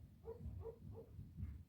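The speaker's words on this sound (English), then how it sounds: "my dog is barking." A dog barks faintly in the background of a quiet room, giving four soft, muffled woofs at a steady pace, as though heard from another part of the house.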